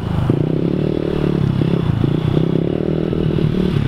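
A mini dirt bike engine runs steadily up close, a continuous buzzing drone with some clatter and scraping, loud and unbroken throughout.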